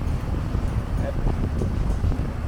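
A boat with a Suzuki 250SS outboard works to get on plane, its engine churn and water rush heavily mixed with wind buffeting on the microphone, steady throughout.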